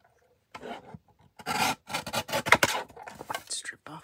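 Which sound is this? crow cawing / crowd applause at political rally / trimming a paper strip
trimming a paper strip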